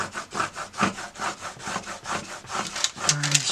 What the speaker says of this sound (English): Burnish, burnish, burnish.